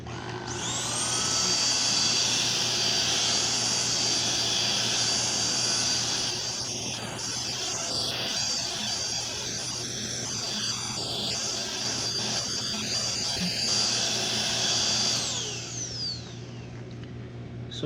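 A Xiaomi Jimmy JV51 handheld vacuum fitted with a turbo brush runs in normal mode, giving a steady, loud motor whine with a high-pitched tone, holding constant for about fifteen seconds before winding down.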